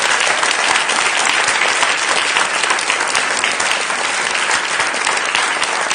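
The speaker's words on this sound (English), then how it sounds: "Give them a warm applause, please." A theater audience applauds the evening's speakers at a HagueTalks event, a loud, dense, sustained clapping that fills the room without pause.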